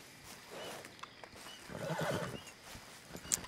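A horse in Red Dead Redemption 2 whinnies loudly up close, with a burst of hoofbeats clopping around it and a few faint background noises.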